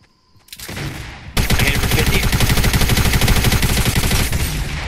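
Dense, rapid automatic gunfire in Fortnite starts after a short quieter lead-in of a few shots and then runs loud and continuous, a sustained burst of overlapping rounds.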